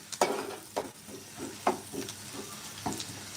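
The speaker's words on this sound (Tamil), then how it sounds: "வெங்காயத்தை வந்து நம்ம வந்து கருக விட்டுறக்கூடாது பொன்னிறமாக வதக்கி வச்சுக்கிறணும்" Onions frying in oil in a pan, a steady soft sizzle broken by several sharp scraping stirs of a spatula at uneven intervals, close and moderately quiet with no talking.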